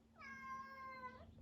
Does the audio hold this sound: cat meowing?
yes